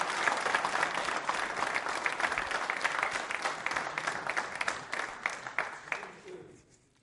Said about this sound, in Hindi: तालियां बजा भी सकते हैं।